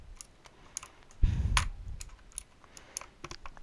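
Typing on an Asceny One 60% keyboard with blue switches, sharp clicky keystrokes in uneven bursts close to the mic, with one louder thump partway through and no talking.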